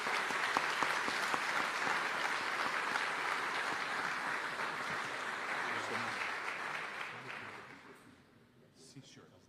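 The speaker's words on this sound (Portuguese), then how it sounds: "Aplauda Jesus pela vida do missionário." A church congregation applauds, giving a sustained wash of many hands clapping at moderate distance that gradually fades out near the end, with faint voices underneath.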